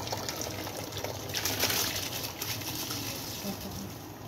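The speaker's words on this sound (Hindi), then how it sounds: "अब मैं इसके अंदर चावल ऐड कर दूंगी" Rice poured into a pot of boiling water for chana pulao with green chillies, giving a steady watery gushing and bubbling that swells briefly in the middle, close and alone with no talk.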